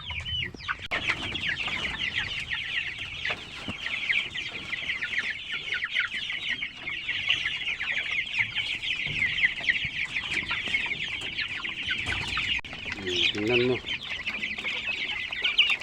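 Many chickens cluck continuously in a busy flock of 45-day-old poultry, a dense chatter throughout, with a brief spoken remark partway through.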